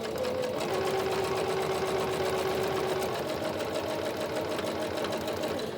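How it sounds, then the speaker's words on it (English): Sewing machine running a straight stitch, a steady rapid close whirring hum with a faint rhythmic clatter, briefly changing pitch partway through. "I almost sewed that closed with the straight stitching"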